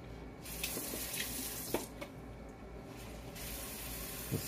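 Tap water runs steadily into the collection bag of a pump water filter, a continuous near hiss and splash with a few small knocks and handling clicks over it.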